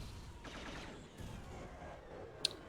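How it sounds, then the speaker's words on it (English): Orange explosions going off in a Space Cup playoff match of a space strategy game, a dense rumbling, crackling stream of blasts with one sharp louder pop near the end, no talk. "100 credits per orange explosion here"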